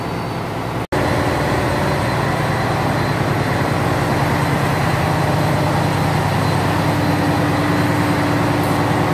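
An air-cooled emergency generator runs in a ship's engine room, a loud steady low drone with mechanical hum, close and continuous after a brief dropout near the start.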